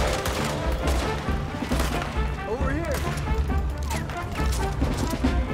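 Repeated gunshots crack through a Red Dead Redemption 2 shootout, irregular bursts of fire mixed with impacts and game music, with a voice talking over parts of it.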